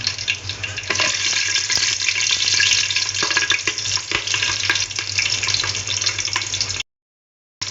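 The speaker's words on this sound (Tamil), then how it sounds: "இப்போ நம்ம மிளகாய் போட்டுக்கலாம்" Dried red chillies fry in hot oil with cinnamon and fennel for a vegetable biryani, giving a steady, dense sizzle that runs on without a break for several seconds before stopping abruptly.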